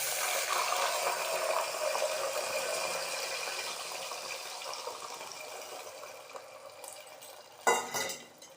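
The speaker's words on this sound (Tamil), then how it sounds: "இப்போ எல்லாம் நல்லா வறுபட்டு எடுத்து நாம் இந்த புளிஜலத்தை சேர்த்துடலாம்" Tamarind water poured into a pan of roasted foxtail millet, a steady broad rushing pour close by that tapers off, with a brief clatter near the end.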